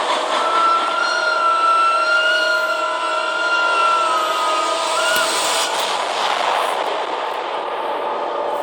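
A toy train runs along its tracks, giving a steady, close whirring drone with a whistle-like tone that dips briefly near the end. No one speaks.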